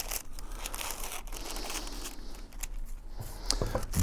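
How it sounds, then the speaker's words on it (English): Scissors cut through blue paper while making a craft mask, giving a steady close crinkling, snipping rustle with a few sharper clicks toward the end. "So I'm gonna cut a blue piece with my handy dandy scissors."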